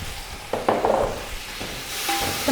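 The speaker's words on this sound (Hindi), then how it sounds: "ज़ीरे को हम इसमें हल्का सा फ्राई करेंगे। साथ ही हम इसमें शामिल कर देंगे टमाटर।" Cumin and tomatoes fry in a pan of oil for haleem, making a soft sizzle with a few sharp bursts of hissing as the ingredients go in and get stirred.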